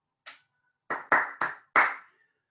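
Five sharp hand claps from one person, a lone clap followed by a pause and then four quick claps in a row, close and clear in a quiet room.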